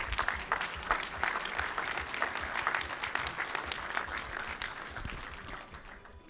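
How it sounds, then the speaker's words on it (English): An indoor forum crowd in Canberra applauds warmly, the dense steady clapping holding for several seconds before slowly tapering off. "round of applause for Jai"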